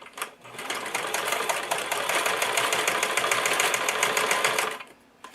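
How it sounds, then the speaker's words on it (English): A sewing machine top-stitches faux leather in one continuous close, loud run of rapid mechanical stitching lasting about five seconds, then stops, with no talking. "then I'm going to top stitch over that"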